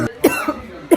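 Two short, sharp coughs close to the microphone, separated by a brief pause, with a faint throaty sound between them.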